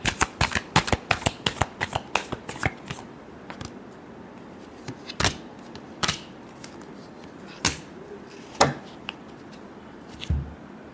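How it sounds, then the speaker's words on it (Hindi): A deck of tarot cards is shuffled by hand, a rapid flurry of crisp riffling clicks and flaps early on, then slower, spaced snaps and taps, close and fairly quiet, with no talk. "Last shuffle."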